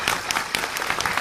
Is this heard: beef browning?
no